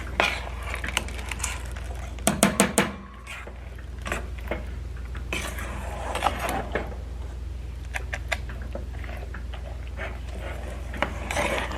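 Spoon stirring a mixture of canned milk and fudge in a cooking pot, a steady soft scraping and rubbing with occasional sharper knocks against the pot, close and fairly quiet, no talk.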